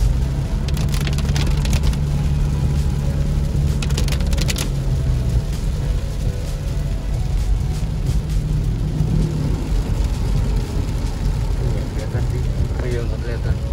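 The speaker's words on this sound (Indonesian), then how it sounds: "Hujannya tambah deras." Heavy rain pounds a Toyota Fortuner TRD driving on a Trans-Java toll road, a dense, steady hiss over low road and engine rumble that runs without a break.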